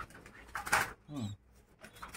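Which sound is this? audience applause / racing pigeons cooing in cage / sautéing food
racing pigeons cooing in cage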